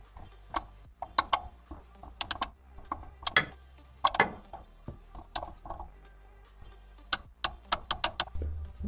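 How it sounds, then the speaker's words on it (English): A torque wrench tightens the oil drain plug on a Jeep Grand Cherokee V8, giving a series of close, sharp ratcheting clicks in irregular bursts with short pauses between them. "I set my torque wrench to 20 foot-pounds, and I'm going to start this by hand"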